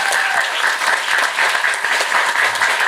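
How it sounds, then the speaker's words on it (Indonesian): Steady, loud applause fills a hall at an Islamic religious study gathering, a dense continuous wash of many hands clapping at once without pause. "Semangat, tepuk tangan lagi sekali lagi."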